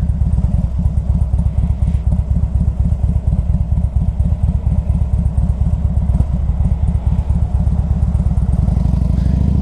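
2003 Harley-Davidson Electra Glide Classic cruising on a highway at about 75 mph, a continuous low, throbbing V-twin rumble with steady pulsing and wind noise, close and loud throughout.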